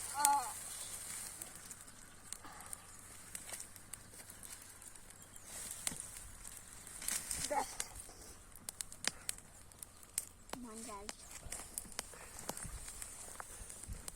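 Wood fire burning outdoors in a garden, crackling and popping with scattered sharp snaps, fairly quiet and close, with brief faint voices in the background.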